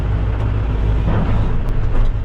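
Volvo EC 210 hydraulic excavator in motion, its diesel engine giving a steady, loud low rumble with a dense mechanical drone that holds throughout, no voices.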